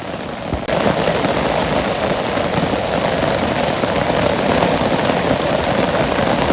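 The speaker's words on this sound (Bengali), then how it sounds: "আবার নতুন করে বৃষ্টি আইছে" Heavy rain pours steadily on a Bangladeshi village during the rainy season, a dense loud roar that starts abruptly and holds without a break.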